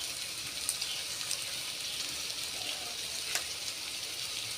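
Chopped onion and garlic sizzle in hot oil in a pan, a steady, fairly quiet hiss and crackle with a few small pops.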